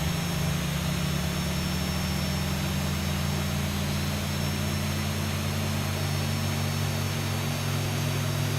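Boeing 737-800 jet engine running up during start in the X-Plane 12 simulator (Zibo model), a steady loud drone with constant low hums and a high whine, unbroken throughout with no talk.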